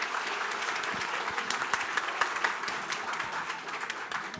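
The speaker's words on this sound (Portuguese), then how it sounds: "Uma salva de palmas para ela." Audience at a legal and financial conference applauding a speaker, a dense, fairly faint round of clapping from a seated crowd, steady throughout.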